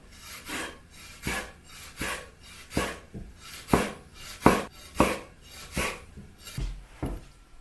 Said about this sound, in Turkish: Nane ve Arap saçını çok ince ince doğrayalım.